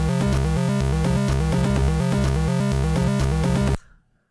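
A chiptune loop composed in HoustonTracker 2.20 on a graphing calculator plays loudly and steadily, with a buzzy square-wave bassline, fast arpeggiated chords and clicky percussive drums, then cuts off abruptly near the end.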